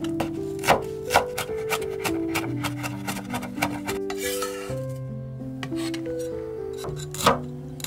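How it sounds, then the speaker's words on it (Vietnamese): A knife chops 40 g of crushed garlic rapidly on a board in sharp, uneven taps, heard over steady background music with no talking. "Còn tỏi thì mình dùng 40g, đập dập ra và băm nhỏ"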